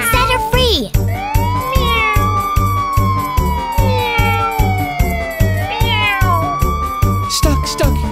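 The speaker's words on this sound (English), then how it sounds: "Stuck, stuck, kitty meows." Repeated cat meows ring out over a bouncy children's nursery song about a kitten stuck in a tree, with a steady beat and a siren-like rising wail, the meows loud and up front across the whole stretch.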